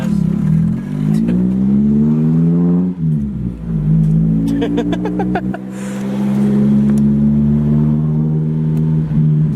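A truck engine revs loudly and close, rising and falling through several throttle blips with a steady rumbling idle between them, heard alone with no talk over it.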